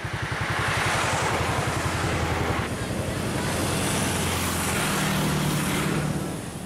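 Cars and motorcycles stream past on the Rappang–Pinrang–Parepare road, some of them speeding, with a continuous rushing roar, engine throb and heavy wind buffeting on the microphone.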